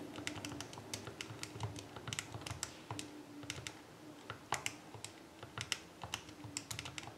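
Computer keyboard typing for a math exercise, a steady run of quiet, close key clicks with irregular rhythm and occasional heavier taps, continuing throughout with no talking.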